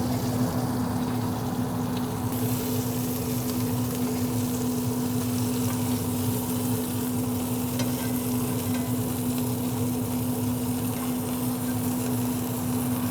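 Beef chateaubriand sears on a grill just above the flame, a constant loud hiss and roar blended with a steady low hum, unbroken and without speech.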